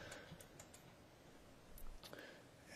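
Quiet, scattered clicks of computer keys being typed at a desk, a few light taps spread irregularly through a faint background hiss.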